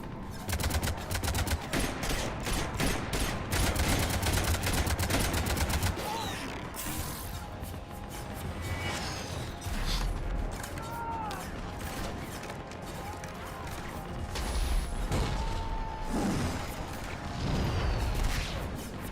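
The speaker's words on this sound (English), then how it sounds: "Cannons engaging." Cannons fire in the video game Mass Effect 3 as a dense, loud barrage of rapid mechanical shots that goes on throughout, with sweeping tones and crashes mixed in and no voices.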